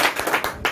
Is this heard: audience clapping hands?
yes